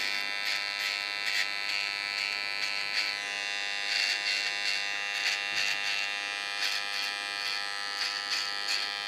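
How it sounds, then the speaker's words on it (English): A small electric hair clipper buzzes steadily and close while sharpening a hairline in a salon, a constant high hum with faint rhythmic changes in load as the blades touch the hair, with no voices. "My small well clipper, I'm going to sharpen the line."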